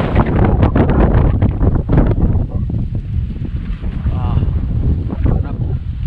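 Strong wind buffets the microphone at Gabur Falls in loud, rumbling gusts that are heaviest early on and then settle into a steady roar.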